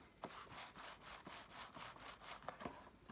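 Paint roller being rolled back and forth in a tray of paint to load it evenly for repainting kitchen cabinets, giving a steady rhythmic rasping swish, close but quiet.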